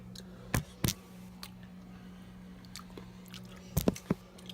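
Close, quiet chewing of homemade peanut butter: a few soft, sticky bites and mouth sounds in two clusters separated by a pause, over a low steady electrical hum.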